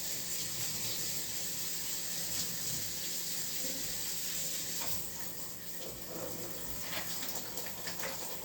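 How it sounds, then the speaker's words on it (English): Cold water runs steadily from a kitchen tap into a sink during salad preparation, a constant close hiss and splash that holds for the whole stretch with only slight shifts in flow. "So right now I'm just running cold water on it, trying to shock it just a little."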